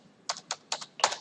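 Keys on a computer keyboard clack in four short separate bursts while a command is typed into a command prompt, close and clear with no talking.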